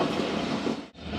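Khyber Mail train rushing past at high speed, a loud, dense roar of wheels and rail noise up close that briefly dips before surging back.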